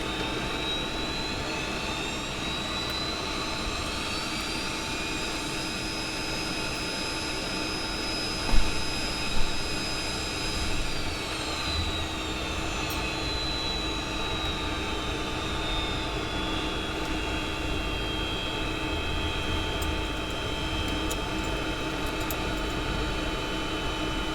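Boeing 727 jet engines whining steadily while the airliner taxis in a flight simulator cockpit, a continuous roar with high tonal whine that shifts slightly in pitch, plus a couple of soft thumps, no talking.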